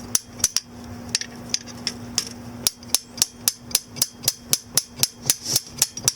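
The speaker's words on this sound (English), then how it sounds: "let's see if we can't just get a hammer on it and" Repeated hammer blows on a stuck engine part of a 1993 Ford E250 Econoline van with a no-start fault, about twenty sharp metallic strikes, irregular at first and then a steady, quick, loud rhythm with no talking.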